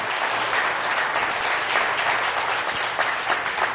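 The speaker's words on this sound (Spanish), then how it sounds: "de un fuerte aplauso al Rey de Reyes y Señor de Señores" A church congregation at a Sunday service breaks into loud, steady applause that holds without pause for the whole stretch, a thick wall of clapping with no voices standing out above it.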